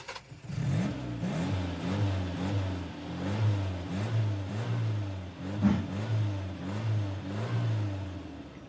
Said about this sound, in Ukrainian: гуркіт мотору.